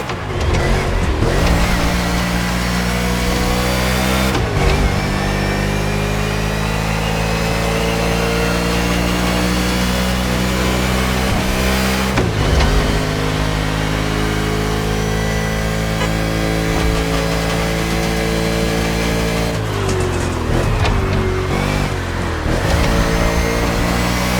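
A car engine in a racing video game roars steadily at high revs, dropping briefly as it shifts or lifts off, then surging again while accelerating out of corners, loud and continuous with no talk.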